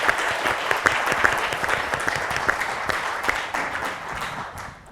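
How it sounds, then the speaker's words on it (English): Audience applause for student films at an arts centre film screening: a dense, close crowd of clapping with sharp individual claps standing out, fading toward the end. "let's give them a round of applause as well"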